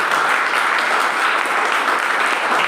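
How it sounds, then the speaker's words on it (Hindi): Loud, continuous audience applause at a seminar, a thick even wash of clapping from a large crowd with no break. "जोरदार तालियां"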